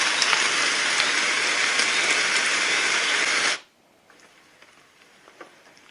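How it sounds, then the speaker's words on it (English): A white noise machine on a rechargeable Bluetooth speaker plays a loud, dense rain-on-a-car or tin-roof sound that cuts off abruptly partway through, leaving near silence with a few faint clicks. "This is rain in a car or maybe on a tin roof."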